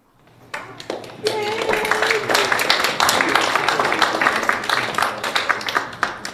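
An audience at an evening gratitude awards event claps, the applause swelling in quickly and holding as a dense, sustained patter of many hands, with some voices mixed in.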